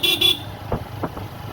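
A vehicle horn honks twice in quick succession, loud and close at the start, followed by faint road noise with a few soft knocks.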